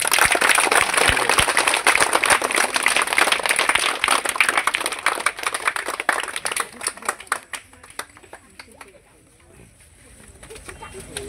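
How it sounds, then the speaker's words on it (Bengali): A gathered crowd applauds for Suraj with loud, dense clapping close by. It keeps up for several seconds, then thins to scattered claps and fades out. "সুরজের জন্য একবার সবাই হাততালি দিয়ে দাও।"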